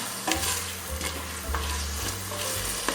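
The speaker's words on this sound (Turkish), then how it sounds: "Bir tane büyük soğan kıydım. Şimdi kavuruyorum." Chopped onion and carrots sauté in olive oil in a pan for a Turkish leek dish, a steady close sizzle broken by a few stirring scrapes, no voices.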